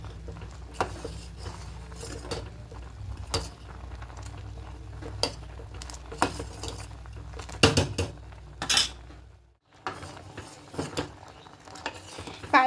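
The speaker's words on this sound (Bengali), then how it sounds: "এবার খুব ভালো করে মিশিয়ে নেব।" A spoon stirs rice pudding (payesh) in a pot, producing repeated metallic clinks and scrapes against the pot's sides at close range, with a brief quiet gap near the end.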